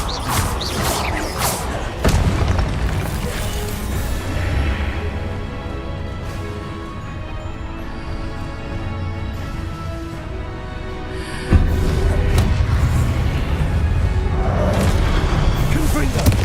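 Heavy Compulso spell impacts from Hogwarts Legacy land as deep booming thuds, with two strong hits about ten seconds apart over a dense, continuous game soundscape.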